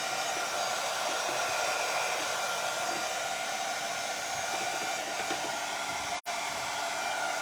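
A hair dryer blows steadily while drying paint on cast clay pieces, a loud, continuous close-up whir that cuts out abruptly for a moment near the end.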